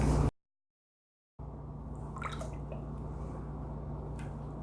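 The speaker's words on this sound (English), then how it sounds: "I'm going to stir this lye into the oils a little bit here now until it starts to turn kind of milky white" Lye being stirred into oils in a container while making soap, soft liquid swishing and faint drips close by after a short silent gap, steady and quiet without talking.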